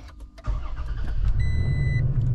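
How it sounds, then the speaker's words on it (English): A 2023 Toyota Tacoma truck engine cranks briefly and catches, settling into a loud, steady rumbling idle close by, with a faint electronic chime partway through. "We're going to go ahead and start the truck up."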